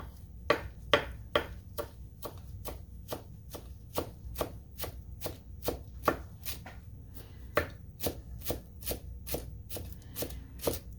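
Cilantro is chopped on a board with a Bunka knife for pico de gallo, a quick even series of crisp close knocks, about two per second, with no voices.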